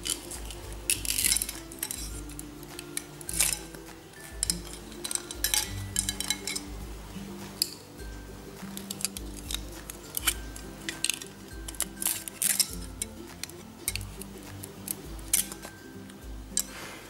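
Plastic toy knife cutting a toy corn cob in a children's pretend cooking play set, giving repeated close clicks, snaps and light plastic clatter in irregular bursts, with quiet background noise.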